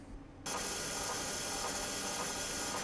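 An old hard drive in an IBM PS/2 Model 30-286 runs a low-level format: a steady mechanical whirring and rapid ratcheting clatter starts abruptly after a brief quiet moment and runs on continuously, close and fairly loud.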